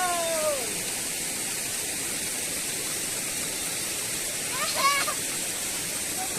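A stream flowing beside a muddy footpath makes a steady, rushing wash of water that runs throughout, while brief voices rise over it near the start and again near the end.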